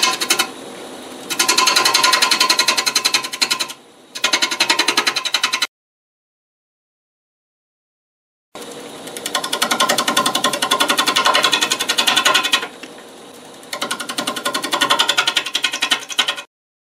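A wood lathe turns a live-edge locust wood goblet as the tool cuts in several rapid, chattering bursts, with short pauses and a longer silent gap between them.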